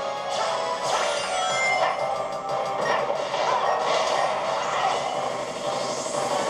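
Remixed Crisis City stage music from Sonic Generations on PS3, a dense, loud orchestral-rock track playing steadily throughout with sweeping high layers and crashing accents.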